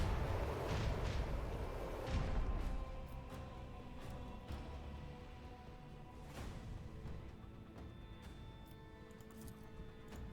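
A starship weapons salvo in the space game Rogue Trader: heavy booming fire rumbles loudly at first, then a run of sharper distant blasts and cracks repeats over a low hum.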